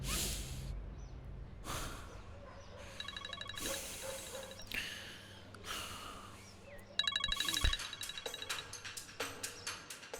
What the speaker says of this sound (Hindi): अब मलिका क्यों फोन कर रही है?